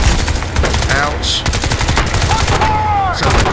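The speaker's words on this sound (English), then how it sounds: "Sounds like a 50 cal." Heavy .50 caliber machine gun fire in Crysis 2 hammers in rapid, loud sustained bursts right up close, with ricochet-like whines streaking through and a brief voice beneath.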